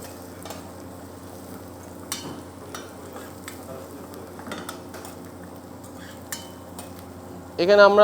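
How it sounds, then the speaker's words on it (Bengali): Ginger and garlic fry in a pan with a quiet, steady sizzle, broken by a few spoon scrapes and clinks. A brief voice is heard, and a louder burst comes at the very end. "আমরা পর্যায়ক্রমে আদা এবং রসুনটাকে ভালোভাবে ভেজে নিব"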